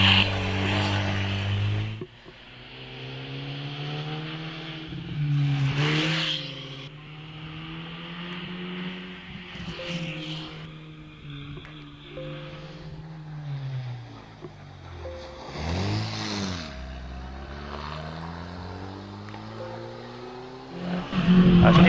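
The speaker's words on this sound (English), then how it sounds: "Sounds a little bit like a missed gear there for Stuart Rose in the Austin 7 Ulster" An Austin 7 Ulster race car climbs a hillclimb course, its engine revving up and down through gear changes with a stumble like a missed gear, heard at moderate distance.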